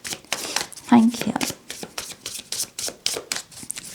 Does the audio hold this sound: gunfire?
no